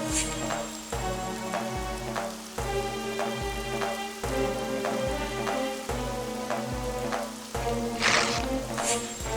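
Cartoon rain pours steadily over a soft musical backing, with a constant hiss of falling drops and a brief louder splash near the end, and no voices.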